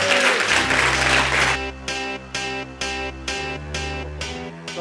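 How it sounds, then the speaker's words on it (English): Applause from a live audience at an Irish internet-marketing talk, welcoming Irish marketer Tony McCarthy: dense clapping at first, then thinning into fewer, separate claps over a sustained background tone, with no talk over it. "I'd like to give you a huge, huge round of applause for Tony McCarthy"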